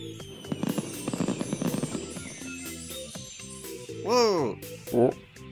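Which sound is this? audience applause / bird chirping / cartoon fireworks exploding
cartoon fireworks exploding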